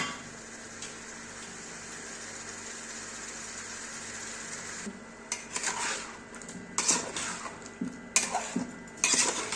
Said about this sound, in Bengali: এখন আমি তরকারি কষাচ্ছি।